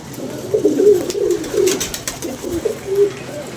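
Pigeons coo in soft, low, rolling bursts, close and fairly loud, with a few brief flutters between calls.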